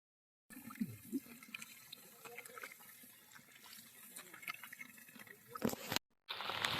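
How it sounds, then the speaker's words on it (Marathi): Steady heavy monsoon rain pours down on Konkan rice paddies during transplanting, with a constant hiss and splashing, broken by a few louder spatters and a brief cut near the end. "आता पाऊस जोरदार आलेला आहे"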